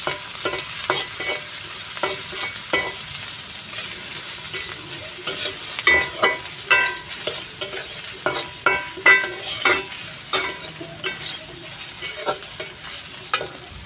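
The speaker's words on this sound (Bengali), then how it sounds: "সেই তেলে দিয়ে দিলাম কিছুটা পেঁয়াজ। পেঁয়াজগুলো লাল না হওয়া পর্যন্ত ভাজতে থাকবো।" Chopped onions frying in oil left over from frying eggs, for a mustard egg curry: a steady close sizzle broken by frequent scraping stirs of the spatula, with no talk.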